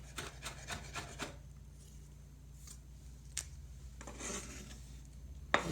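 A knife cutting food on a wooden board during focaccia prep, a run of quick close chops at the start, then scattered sharp taps and rasping strokes over a quiet background with no talk.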